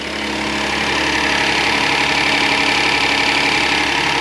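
Hyundai Santa Fe XL engine running with a loud, steady mechanical drone and a faint irregular knock, close up and constant throughout, with no talk.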